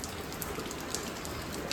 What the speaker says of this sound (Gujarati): વરસાદ ચાલુ થઈ ગયો બહાર